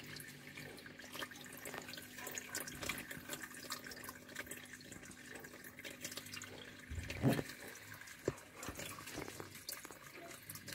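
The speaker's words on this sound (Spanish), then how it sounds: "el filtro que aspira por aquí y chupa por allá y tira por allí" An aquarium filter in a turtle tank circulates water, trickling and splashing continuously at low volume with a faint hum underneath, and one soft thud partway through.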